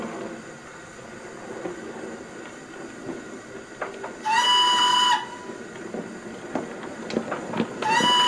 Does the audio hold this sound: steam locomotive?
yes